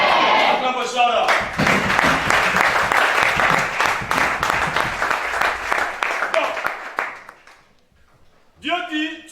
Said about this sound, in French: Acclame pour Chara.